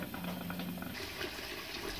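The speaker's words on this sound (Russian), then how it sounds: "Открываем горячую воду." A hot water tap is opened on a home boiler system, and water gushes steadily with sputtering air escaping from the boiler, close and continuous with no talking.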